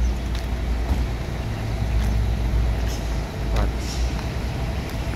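A Mior Patriot EL Grande flexible tronton bus rumbles with a steady low engine drone and road noise throughout, with faint scattered clanks and hiss over the top.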